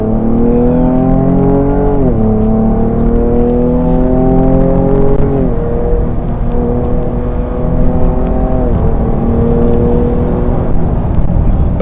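A Ford Ranger Raptor with a 300-horsepower engine revs repeatedly, each rev climbing steadily then dropping back, about four loud rises in a row heard close and unaccompanied by talk.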